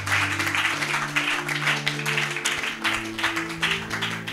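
A church congregation applauds to acclaim the Lord, a dense continuous clapping over sustained organ or keyboard chords that fills the whole moment at fairly loud level.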